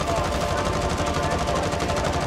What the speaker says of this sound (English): Oh, getting shot from the left.